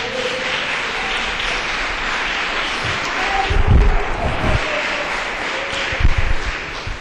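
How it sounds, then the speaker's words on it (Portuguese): A church congregation claps together in a sustained wash of applause, steady and fairly loud, with a couple of heavier thumping swells partway through. "Pode dar uma salva de palmas para Jesus."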